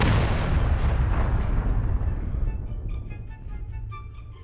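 Heavy weapon fire from a Longbow LGB-8V(S) mech in MechWarrior Online: a loud, booming volley of explosive blasts that rolls and rumbles, then slowly decays into scattered crackles and smaller impacts.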